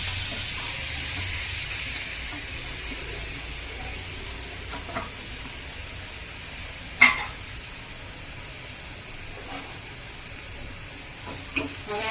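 Finely ground onion paste frying in a pan with asafoetida and turmeric for sambar, a soft continuous sizzle with occasional stirring clinks and scrapes, quiet and close, no voices.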